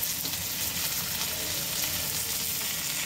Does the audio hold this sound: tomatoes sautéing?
yes